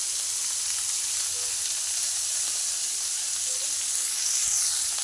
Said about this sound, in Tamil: உப்பு, மஞ்சள் பொடி சேர்த்துட்டு இது நல்லா வதங்கட்டும்.